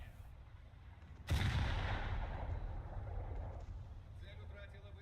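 Naval gunfire at ships in War Thunder, a single heavy boom that rolls out into a long fading rumble, loud and close, over a faint background hum.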